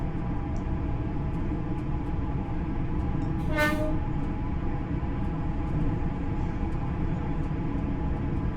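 An LNER Class 801 bi-mode train in Train Sim World 4 runs with a steady loud rumble and hum, broken midway by one short horn blast.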